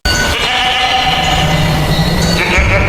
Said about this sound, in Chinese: 前方的树林中传来山羊叫声